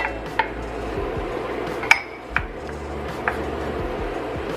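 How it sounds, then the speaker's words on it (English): Sliced button mushrooms tipped into a stir-fry pan of gluten-free Asian noodles, heard as a few sharp clanks and clinks of utensils against the pan over a low steady background, with no talk. "We're going to add these button mushrooms that I had cleaned off and sliced."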